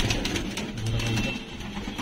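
A brown pet pigeon coos close by, low throaty rolling calls repeating over a couple of seconds.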